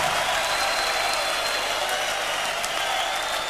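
The audience at a 1991 rock concert keeps up continuous, dense applause. The sustained wash of many clapping hands is loud and even, with faint crowd noise mixed in.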